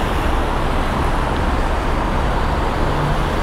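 Heavy street traffic in Vienna's Mariahilfer district, a loud continuous roar of cars, buses and trucks passing close by with a dense rumble and no pauses.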